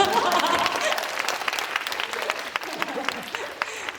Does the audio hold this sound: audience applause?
yes